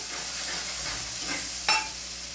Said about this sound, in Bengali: এই যে পেঁয়াজ রসুন আদা ভালো করে কষাই দেবো